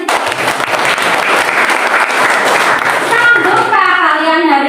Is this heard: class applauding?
yes